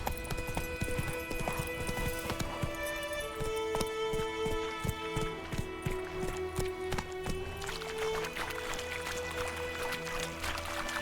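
Roach, a horse in The Witcher 3, gallops with a steady, fast clip-clop of hooves over continuous game music, the hoofbeats close and fairly prominent.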